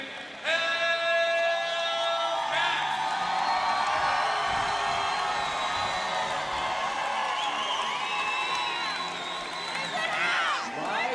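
A roller derby crowd at a TXRD bout cheers, whoops and whistles in a sustained, loud roar, with some voices audible in the din.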